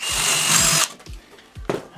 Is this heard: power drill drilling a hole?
yes